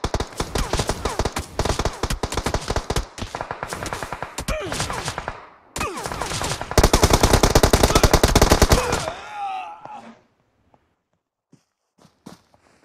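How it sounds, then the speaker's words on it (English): Rapid automatic gunfire from the PUBG Mobile battle game, dense loud bursts rattling almost continuously for about nine seconds with brief gaps, then cutting off to near silence with a few faint distant pops. "You're shooting at me both sides."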